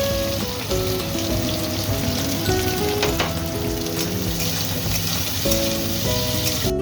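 Chopped onion, capsicum and potato frying in a pan with a steady, close sizzle, while background music plays throughout.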